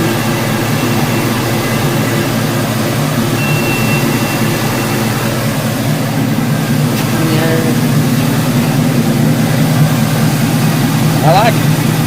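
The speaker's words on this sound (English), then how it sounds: "Gotta love that LS sound." A 1982 Chevy C-10 truck with a cammed LSX cast-iron Corvette-style block idles steadily and loudly close by, a continuous engine drone with a faint rise near the end.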